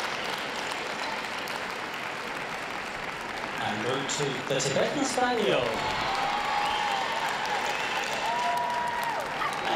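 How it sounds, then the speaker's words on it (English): Applause at a dog show, steady crowd clapping throughout, with an announcer speaking over it partway through. "Big round of applause."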